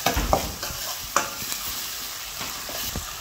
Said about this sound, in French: Maintenant, on va venir rajouter la tomate. Et on va venir bien mélanger.